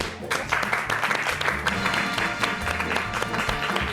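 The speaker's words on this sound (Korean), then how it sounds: "박수 한번" Studio audience applause at a Korean comedy web show, a broad steady wash of clapping that holds loud and even for the whole stretch with no voices on top.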